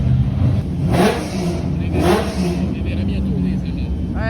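A Ferrari 812 revs its engine at a Dijon-Prenois historic racing meet, two sharp rising revs close by over a steady idle while people chat nearby.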